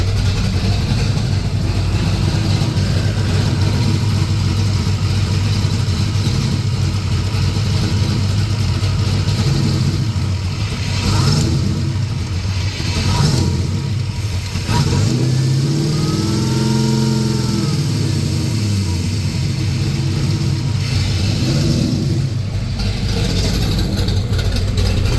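Engine of an LS-swapped Ford Ranger idling loud and close, the steady rumble rising and dipping as the idle surges, with a noticeable swell and fall around the middle.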